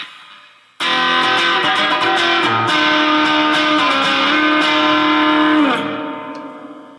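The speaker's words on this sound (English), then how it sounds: "And we'll try that with a speaker simulator." A distorted electric guitar chord rings out loud and sustained through the speaker simulator of a Yamaha DG Stomp, giving a boxy speaker-cabinet tone, then slowly fades.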